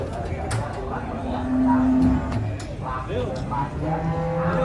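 Cows being unloaded from a truck, mooing at close range amid busy outdoor noise, with people talking nearby throughout.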